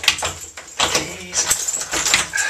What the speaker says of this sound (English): just go and lock the door